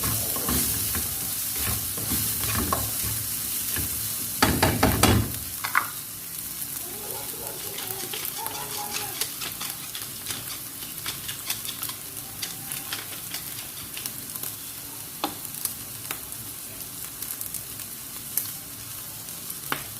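Rice frying in melted margarine in a pan while being stirred, with a loud dense sizzle and repeated scraping strokes that start heavy and settle into a steadier crackle, close and continuous.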